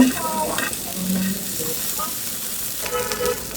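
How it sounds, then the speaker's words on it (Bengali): Eggplant slices frying in a pan, turned to cook the second side, with a steady sizzle and a few stirring clatters at close range, along with brief faint tonal noises in the background. "এখন আমি আর একটা সাইড ভেজে নিচ্ছি"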